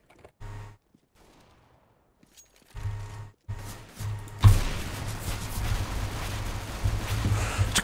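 Gunfire in CS:GO on the Dust 2 map, starting with a few scattered shots, then heavy sustained automatic fire that grows loud and dense for the last few seconds.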